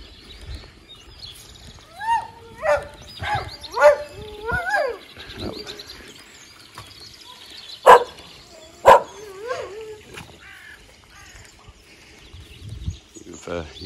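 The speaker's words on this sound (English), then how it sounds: "Come and introduce you to all the dogs." Several sharp dog barks and yips ring out in short bursts at a sculpture garden estate, with a pair of louder barks later, under quiet talking and faint birdsong.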